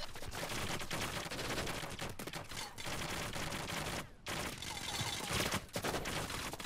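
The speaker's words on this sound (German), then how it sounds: "der ballert einfach die ganze Zeit." Nonstop automatic gunfire in the Payday 2 video game, a weapon glitch giving unlimited ammunition, loud, dense and continuous with only one brief gap.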